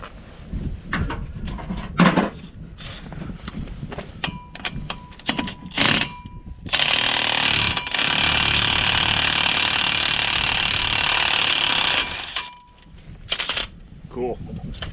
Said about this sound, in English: I'll try the impact first.